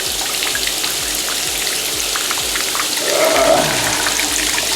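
Shower water pours steadily into a bathtub with a clogged drain, a broad, rushing hiss swelling slightly louder near the end.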